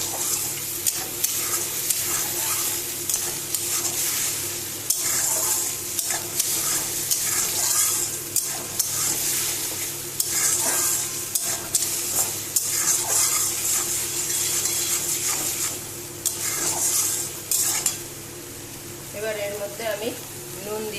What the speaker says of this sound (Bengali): এবার পেঁয়াজ রসুনটা আমি তেলে কষিয়ে নেব